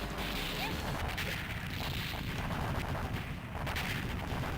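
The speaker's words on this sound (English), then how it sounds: "All of these guys seem to just survive their vehicles blowing up" Enemy vehicles blow up in the arcade shooter Shock Troopers: a continuous barrage of booming blasts, crashes and gunfire. The explosions pile densely on one another at full loudness, with no voices.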